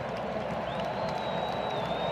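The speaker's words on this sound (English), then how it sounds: "Bison defense pumping up the crowd one more time." A football stadium crowd roars and cheers at an FCS Championship semifinal between South Dakota State and North Dakota State, fired up by the Bison defense; a steady, dense wall of crowd noise holds throughout with no talking.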